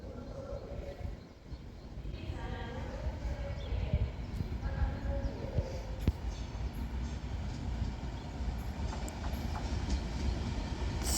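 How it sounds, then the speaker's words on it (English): Avanti West Coast Pendolino train pulling into the platform at Stafford, a steady, rumbling roll with faint clicks and clanks, heard alone without talk. "Now arriving in into platform 1 is going to be the 1053 Avanti West Coast service to London Euston from Manchester Piccadilly."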